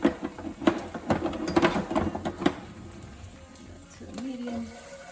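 A small whisk stirs coconut curry for shrimp in a cooking pot, making quick, uneven clicking and scraping strokes for a couple of seconds before settling into a quieter, continuous simmer.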